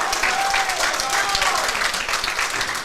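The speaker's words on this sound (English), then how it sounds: "Big round of applause." Steady applause from spectators at a high school bowling team final, a dense wash of clapping with light crowd noise and talk mixed in.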